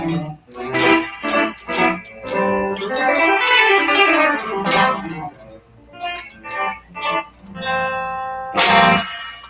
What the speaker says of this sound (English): So yeah, the bridge pickup sounds like this.